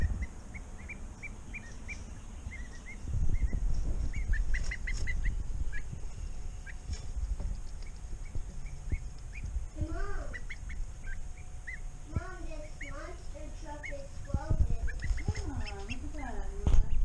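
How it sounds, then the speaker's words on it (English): Young ducklings, kept cold and damp, quack in many overlapping calls. The calls come in quick bursts that grow busier later, over a low rumble of background noise. "They're really quacking"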